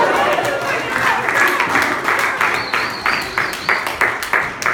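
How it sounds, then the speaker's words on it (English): Audience at a live poetry performance claps in a mixed crowd, dense applause that thins into sparse, rhythmic individual claps toward the end, with faint background chatter. "Y'all can clap if you want to clap."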